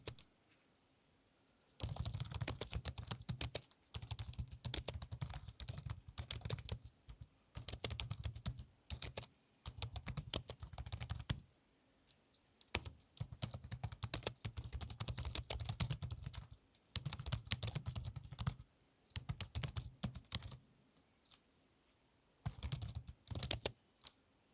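Computer keyboard typing a code comment, quick close bursts of clicky keystrokes broken by short pauses, rather faint with no talk.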